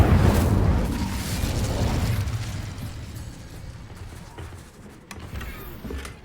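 The Incendio fire spell cast in Hogwarts Legacy bursts out as a loud whooshing flame at the start, then fades into a long crackling, rumbling tail.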